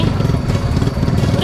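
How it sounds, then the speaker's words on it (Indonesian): Motorcycle engine droning steadily and close while the bike is pushed up a very steep dirt path, a low rough rumble with no pauses. "Jadi kami harus mendorong motor yang saya tumpangi."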